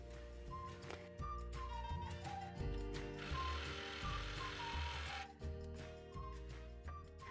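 A sewing machine runs close up as it stitches dress seams, a rapid steady mechanical whir with repeating beats, briefly revving louder mid-way, alone with no voices.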